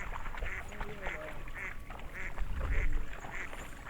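Ducks on the water quack in a regular series of about seven calls, picked up by a Campark TC15 trail camera, with faint background noise and some low rumbling beneath the calls.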